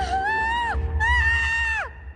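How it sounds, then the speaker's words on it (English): A woman screams twice, each a long, shrill cry that holds and then drops off sharply at the end, with a short gap between the two. "He was still thinking about this when he heard the woman scream."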